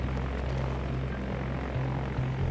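A DC-3 propeller airliner's piston engines drone steadily, with a loud, continuous low hum and throbbing rumble that holds throughout, with no voices.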